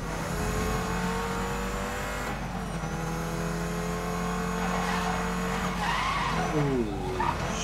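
Car tires skidding and squealing in the racing game Need for Speed Most Wanted, over a continuous loud engine drone, with sweeping screeches as the car slides near the end.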